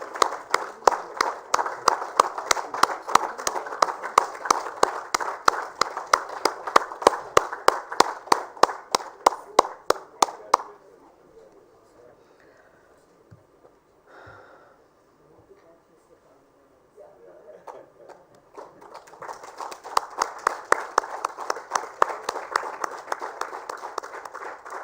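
Applause at a sanitation awards ceremony for a municipal corporation winning a prize, rhythmic group clapping for about ten seconds, a brief quiet lull with faint murmurs, then the clapping resumes strongly.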